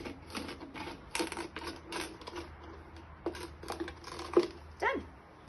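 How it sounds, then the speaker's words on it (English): Repeated crisp snipping and crunching of scissors cutting the top off a plastic bottle, several cuts in an irregular rhythm, fairly quiet and close. "put your scissors in through that slit and cut the top off the bottle."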